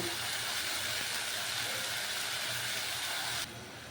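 Ginger and garlic paste frying with onions in a pan, a loud, continuous hissing sizzle that drops suddenly in intensity near the end.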